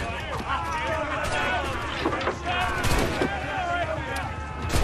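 In Assassin's Creed IV, an upgraded ship broadside fires in a loud volley of overlapping cannon booms and crackling shots, mixed with shouting voices and battle clatter.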